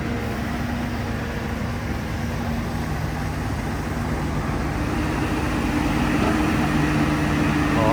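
A tractor stuck deep in mud drones and strains continuously, its heavy engine rumbling low and loud, gradually revving slightly higher toward the end.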